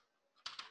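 A few quick computer keyboard keystrokes typing a command, close and crisp, three clicks in rapid succession after a near-silent start.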